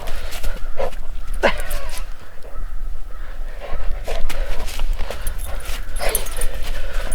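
Dogs at a winter camp bark, yip and whimper in sharp, scattered bursts over a steady background of outdoor noise, close and fairly loud.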